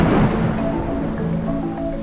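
Steady heavy rain pours over a low rolling rumble of thunder, a dense continuous wash of sound that stays loud throughout with no voices.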